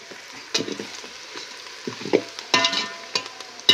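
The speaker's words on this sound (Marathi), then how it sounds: "आता मस्त असं तळून घेतलंय सगळं." Spices sizzle and fry in a pan for Dhangar-style mutton kharda, a steady crackling hiss broken by several louder bursts of stirring and scraping, close and without talk.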